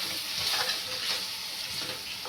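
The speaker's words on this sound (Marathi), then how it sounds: "छान फ्राय होऊ देऊया" Turmeric, salt, chilli powder and Kitchen King masala fry in a pan for a drumstick (shevga) pod curry, giving a steady close sizzle and hiss with faint stirring and no talking.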